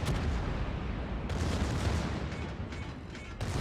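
Secondary guns of a Schlieffen warship in the video game World of Warships blast away in a steady barrage of overlapping booming shots, loud and continuous with sharper reports punching through near the middle and end.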